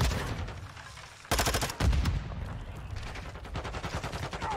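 Rapid bursts of gunfire in a ranked Modern Warfare 2 match, shots fired through walls, with sharp rattling volleys that cut in abruptly and keep going.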